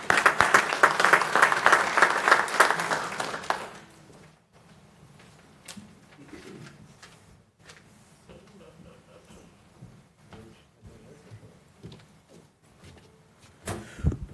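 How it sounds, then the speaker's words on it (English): City council meeting audience applauding, a burst of clapping for about four seconds that stops abruptly, followed by quiet room noise with faint shuffles and bumps, then a brief louder knock at the end. "Let's give her another round of applause."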